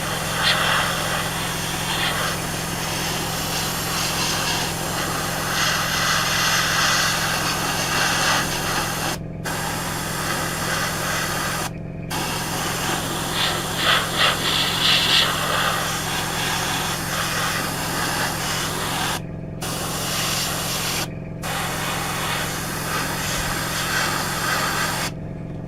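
Spray paint hisses out in long, steady bursts, separated by a few short pauses, as a light coat goes onto a Tamiya 1/12 Yamaha YZR-M1 model motorcycle, with a constant low hum underneath.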